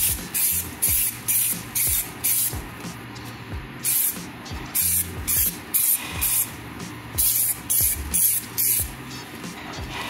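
Rust converter sprayed onto the rear wheel arches of an EP3 Civic Type R, heard as repeated short hissing bursts in an uneven rhythm, close and fairly loud, with low rumbling clunks between them.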